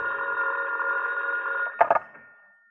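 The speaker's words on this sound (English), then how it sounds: "my telephone rang" A telephone rings in an old radio drama as a steady electric bell tone for under two seconds, then stops with a few sharp clicks as the receiver is picked up.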